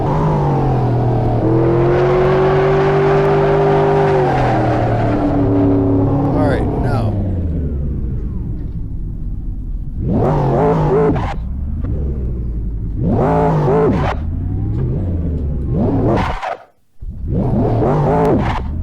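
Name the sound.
1969 Camaro engine revving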